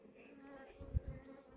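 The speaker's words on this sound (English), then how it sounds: "with these few bees that's just sitting on here, trying to guard it a little bit from me taking it" Honey bees buzzing around a honey-filled hive frame, a faint, thin hum with a brief louder burst as one passes close, under a soft background murmur.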